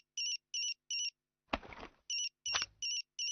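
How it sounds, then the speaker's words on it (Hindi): A cartoon phone ringtone plays in repeated short electronic bursts, loud and clean, broken midway by two louder noisy thumps before the ringing pattern resumes. "आपका फोन बज रहा है"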